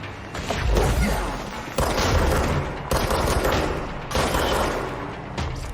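Rapid bursts of gunfire from the video game Control, loud and dense with booming low-end impacts, firing in repeated clusters with brief gaps between volleys.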